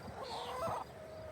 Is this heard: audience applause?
no